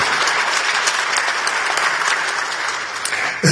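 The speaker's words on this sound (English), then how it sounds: "a round of applause for our interpreters who have been working all day in German and in English" An audience at an economic forum in Vienna claps for the interpreters, a dense, steady applause that fills the whole stretch at close range and ends abruptly.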